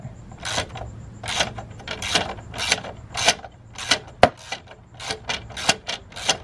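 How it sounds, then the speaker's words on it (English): A 13 mm Allen socket tightens the bolts of a carbon fiber strut tower brace on an Audi A4, giving rhythmic bursts of ratcheting clicks close by, about one every half second, with a sharper knock partway through. "just spin one at a time and tighten it"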